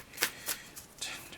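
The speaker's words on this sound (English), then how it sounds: "Shuffling." Tarot cards are shuffled by hand, producing a few soft, quick riffling bursts close by in an otherwise quiet room.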